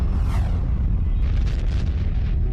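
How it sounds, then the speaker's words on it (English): A deep rumbling explosion effect standing in for a gamma-ray burst, a loud, sustained roaring boom with crackling bursts layered on top, heard alone. "This is a gamma-ray burst, the biggest explosion to rock the universe since the Big Bang."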